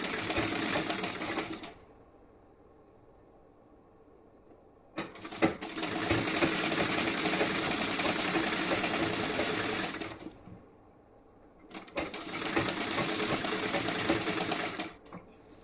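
A sewing machine stitches blouse fabric, joining on an extra piece, in three long steady runs of close, loud motor whirring separated by brief pauses.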